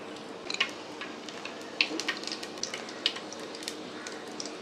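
Whole spices sizzling in hot oil in a cooking pot for a simple vegetarian dish, a soft steady crackle with scattered sharp pops, fairly quiet and close, no talk.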